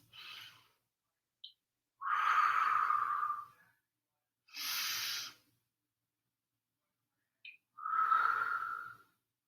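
A person breathes slowly and audibly during a seated yoga session, with alternating long inhales and exhales, each a soft breathy rush lasting a second or two, separated by silences and heard close up.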